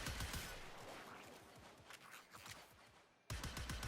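Rapid regular shots from the Cyanex weapon in Warframe, a series of sharp repeated reports that fade in the middle, pause briefly, then resume loudly.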